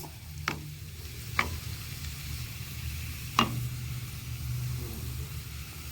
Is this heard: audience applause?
no